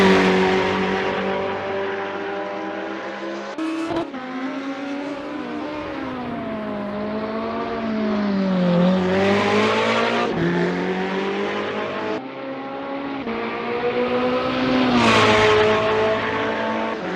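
A Ferrari 488 GT3 race car screams around the Hockenheimring GP circuit in a racing game, its loud engine note rising and falling through gear changes with sharp shifts and sustained high revving, heard alone.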